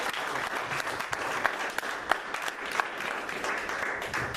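A church congregation applauds during a Spanish-language sermon, a steady wash of many hands clapping at moderate loudness with a few sharper claps standing out.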